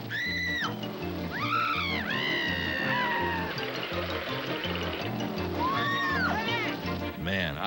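Cartoon cats meow and yowl in a 1990s Cartoon Network Tom and Jerry promo: several drawn-out, pitch-bending meows rise and fall loudly over a bouncy music bed.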